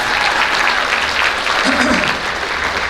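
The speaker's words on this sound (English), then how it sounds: "Let's give Miss Taylor a round of applause again for that." Sustained applause from an audience at a school district teachers of the year ceremony, a steady dense wash of clapping throughout with a voice briefly audible beneath it.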